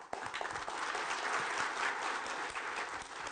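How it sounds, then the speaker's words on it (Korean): Audience applause welcoming South Korea's Minister of Trade, Industry and Energy at a CEO breakfast meeting, a dense, steady wash of many hands clapping that fills the room for a few seconds without a break. "성 장관님을 박수로 환영해 주시기 바랍니다."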